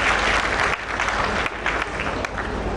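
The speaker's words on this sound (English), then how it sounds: "Another round of applause." Sustained applause from a large crowd at a health conference, dense clapping that swells and dips slightly but continues throughout.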